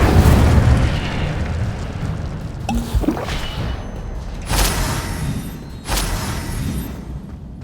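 Incendio fire spell cast in the video game Hogwarts Legacy: a loud rumbling roar, then a couple of sharp fiery bursts and booms, with no talking.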